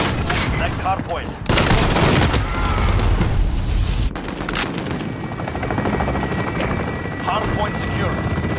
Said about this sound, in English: Chopper gunner on approach.